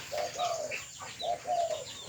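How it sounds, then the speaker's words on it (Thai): A decoy dove coos close by in repeated soft phrases, two clear bursts of rhythmic cooing separated by a short pause, over faint background noise. "นกน้อยตัวนี้เสียงดีเลย"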